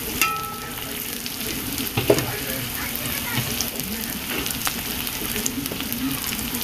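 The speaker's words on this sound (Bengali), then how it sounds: "এবার এই রসুনগুলো যা আছে দিয়ে দেবো" Garlic fries in hot oil with chopped onion and black cumin, a steady close sizzle that swells briefly when the garlic goes in, with a few soft clinks over it.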